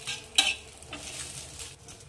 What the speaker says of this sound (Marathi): आता यामध्ये आपण लसूण टाकू। 6 ते 7 पाकळ्या लसणाच्या टाकायच्या आहे आणि आता याला पण भाजून घ्यायचं आहे